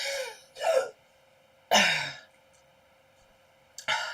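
Three or four short, harsh coughs and throat clears from a pet allergy, close and separated by brief silences.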